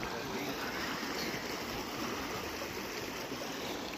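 Broad, steady rushing of a river flowing through a snowy valley in Betaab Valley, Kashmir, a continuous dense wash of water noise with no pauses.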